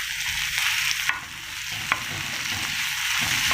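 Onions fry in a pan with a loud, steady sizzle that is close and continuous, broken by a couple of sharp utensil clicks and stirring.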